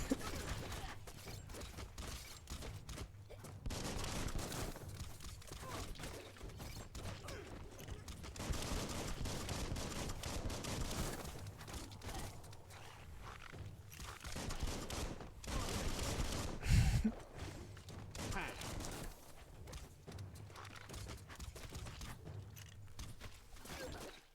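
Gunfire in the game Biomutant, with a fairly quiet, dense stream of rapid shots and mechanical clatter running throughout, including one heavier thump partway through and no talking.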